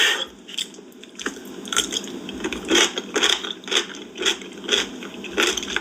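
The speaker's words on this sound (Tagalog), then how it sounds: "Sorry kung medyo magiging maingay yung nguya ko kasi medyo matunog yung mga kakainin ko" Loud, close crunchy chewing, repeated bites and crunches in an uneven rhythm with no talking.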